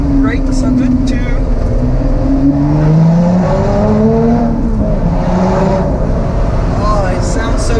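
A Lotus sports car engine accelerates and revs, its rising and falling tone echoing off nearby walls, loud and continuous from start to finish.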